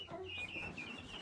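Young chicks peep and cluck softly and steadily, close by, while fed a mix of chick starter and mealworms on a ranch.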